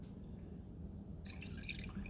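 Water being added to a cheese sauce for baked mac and cheese, a soft continuous dripping and trickling of liquid, faint and close, with no talking.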